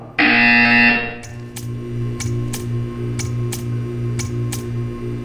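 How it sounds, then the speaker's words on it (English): A loud, harsh electronic buzzer from the video game Portal 2 blares for about a second, then gives way to a steady hum with evenly spaced soft ticks. "You will hear a buzzer."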